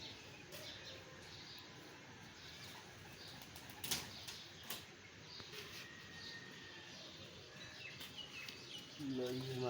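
A pigeon released from the hand beats its wings in quick flaps amid outdoor bird noise, with a brief louder flutter midway and people talking nearby.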